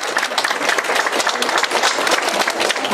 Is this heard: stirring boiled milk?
no